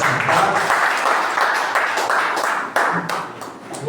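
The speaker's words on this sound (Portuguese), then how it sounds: "Aplauda o Senhor e pode se assentar" Church congregation at a missions service clapping steadily, a full, sustained round of applause from many hands with a few louder claps near the end, no speech over it.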